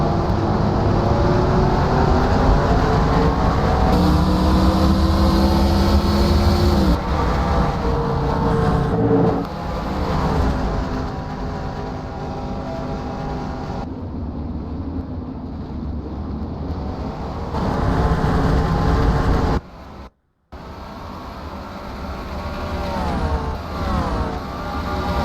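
Stock race cars of the 2008 Canadian Tour series roar at Canadian Tire Motorsport Park, a loud, sustained engine drone with rising and falling pitch as the cars run close together, briefly cutting out near the end.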